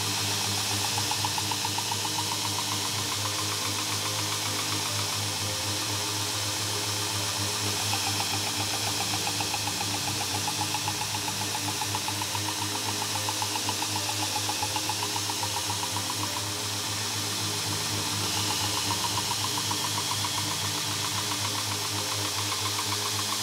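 A backstand belt grinder sharpens a knife on a worn abrasive belt, producing a continuous, steady grinding whir with a faint rasp from the blade that stays even and close throughout.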